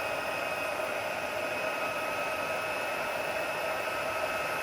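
Heat gun blowing on embossing powder on a card, a steady, constant airy whoosh at moderate loudness throughout with no change in pitch or level.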